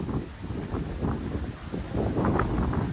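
Strong typhoon wind from Typhoon Uwan roars in a continuous, broadband rush, close and loud at the microphone, with gusts swelling and buffeting throughout and no voices.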